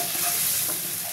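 Pomfret curry ingredients with cumin and coriander powder are stirred in a pan, giving a steady close sizzle and frying hiss with no break for the whole short moment.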